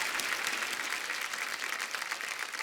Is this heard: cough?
no